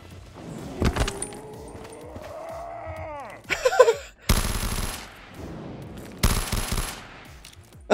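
Gunfire in Black Ops 3 Zombies on a custom map: short bursts of rapid automatic fire, loud and close, separated by gaps, with a rising mechanical whine between bursts.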